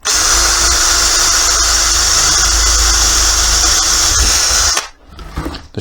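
A power drill with a worn bit whines loudly and steadily for about five seconds, boring mounting holes into wood for clamp storage, then cuts off abruptly into a quiet rustle.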